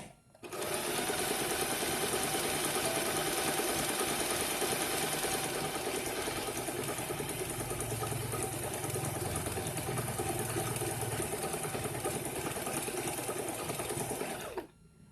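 A Butterfly JH 5832A electric sewing machine stitching a pattern, a continuous fast mechanical whirring and clatter that starts abruptly, runs steadily for about fourteen seconds close to the mic, then stops.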